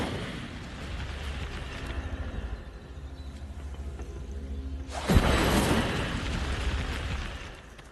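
A fire spell cast in Hogwarts Legacy bursts out suddenly with a loud whooshing blast that roars on for a few seconds over steady game ambience, with no talk.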